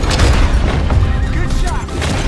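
Gunfire in Red Dead Redemption 2, a loud booming shot with rumbling low-end tail amid dense game sound, with a voice talking over it.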